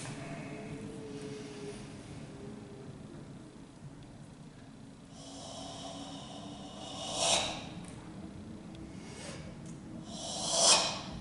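Controlled breaths mark a Sanchin karate kata. Two sharp, forceful exhalations stand out near and loud over a low room hum, and a quieter steady breathing runs between them.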